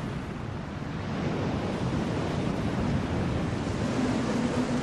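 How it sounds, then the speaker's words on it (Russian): Steady roaring surf mixed with strong typhoon wind off the Pacific coast of Taiwan, a dense continuous rush with no pauses and no voices. "Остров тайфунов."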